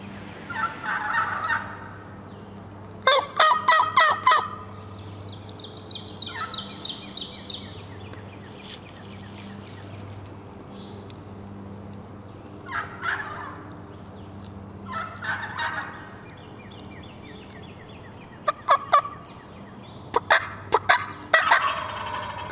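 A wild turkey gobbles again and again in a Pennsylvania spring woodland. The bursts come in scattered clusters at mid distance over a steady hum of insects.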